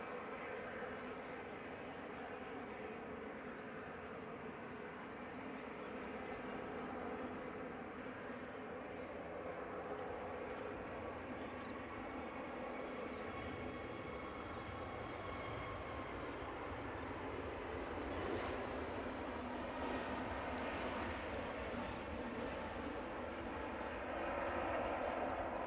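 Airbus A321neo jet taking off from Manchester Airport, a steady broad engine roar holding throughout and swelling slightly toward the end, heard from a distance with no talk.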